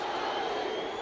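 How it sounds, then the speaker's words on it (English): Boxing crowd at Madison Square Garden for Muhammad Ali versus Joe Frazier, a dense, sustained roar of massed voices chanting, steady and loud with no single voice standing out. "And you can hear the chant in the background."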